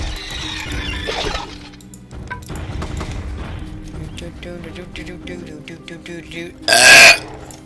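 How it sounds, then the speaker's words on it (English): A loud, abrupt burp from the video game Fate: The Traitor Soul bursts out near the end, following a stretch of talk and game sounds. "Actually, I wasn't expecting a random burp to begin with."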